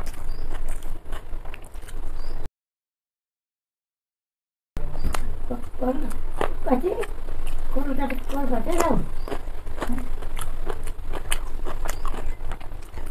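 Chicken biryani with raita is eaten close to the mic, with soft bites, wet chewing and light clinks repeating through the clip, broken by a brief silent gap, while a voice is briefly heard.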